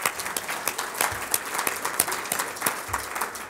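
Steady applause from a lunch audience at the Sheraton in Oklahoma City, many hands clapping at a fairly even density for a few seconds with no voices over it.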